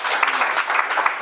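A gathered audience breaks into applause, a short, loud and even burst of many hands clapping together, heard alone without voices.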